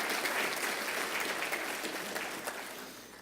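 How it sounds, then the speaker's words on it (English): A garden party audience gives a round of applause, a dense wash of clapping from a crowd that is steady at first and slowly tapers off toward the end. "let's give Bob Whitmer a round of applause"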